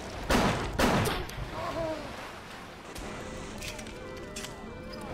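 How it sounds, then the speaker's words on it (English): Shotgun blasts from a first-person shooter set in Bioshock Remastered's underwater city, two loud close booms early on, followed by a dense, continuous wash of game action. "you're making me use all of my shotgun rounds"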